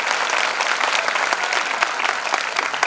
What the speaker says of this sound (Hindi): अच्छे से तालियां बजाइए।